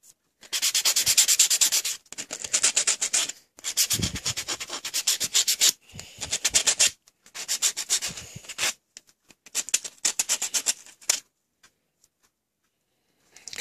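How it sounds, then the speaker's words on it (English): A fine-grit nail buffer rubs over an acrylic nail in quick, close scratchy strokes, coming in short bursts with brief pauses between them before trailing off. "you want to run it over the nail and underneath to smoother grit"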